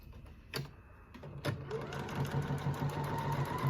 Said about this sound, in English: I'm going to sew a pocket seam there